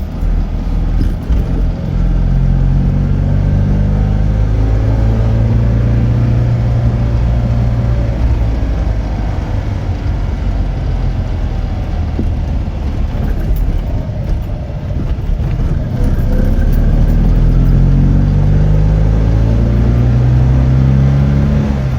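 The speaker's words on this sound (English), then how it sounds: "this car doesn't have the synchromesh gearbox, so we're going to take our time going through the gears." A loud classic Fiat engine without a synchromesh gearbox rises and falls in pitch as it revs up, drops back and pulls through successive gears, with no talking.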